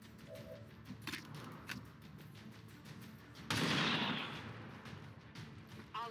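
Gunfire in XCOM: a few sharp isolated shots, then one loud blast with a decaying crackling tail, set against quieter game ambience.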